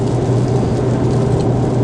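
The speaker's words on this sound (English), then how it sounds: "what you're hearing is rain" Rain heard from inside a car driving on a freeway, a steady dense wash of drops and road rumble with a low engine hum, continuous and close.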